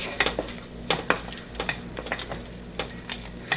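A spoon stirs carrot cake jam and apple pie jam in a metal pot, scraping and clinking against the sides in quick irregular knocks, close by and without talk.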